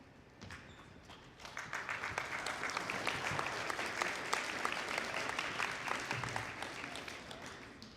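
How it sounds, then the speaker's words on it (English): Audience applause at a school scholarship and awards ceremony, rising after a quiet start into a sustained, moderately distant patter of many hands. "While you guys are applauding"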